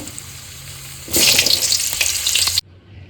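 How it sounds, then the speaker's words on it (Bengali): Whole potatoes dropped into hot oil set off a sudden loud, bright sizzle that holds for about a second and a half and then cuts away to a quiet hum; no voices. "এবার আলুগুলো একটু হালকা করে ভেজে নেবো"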